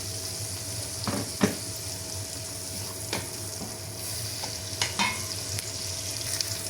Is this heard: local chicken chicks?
no